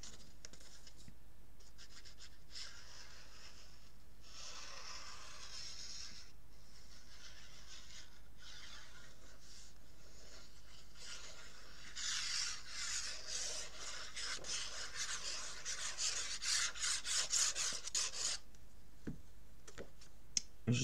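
Paper creasing for a spring scrapbook album page on black paper, a steady soft scratching and rubbing that continues throughout and grows into denser, brisker strokes toward the end, close by.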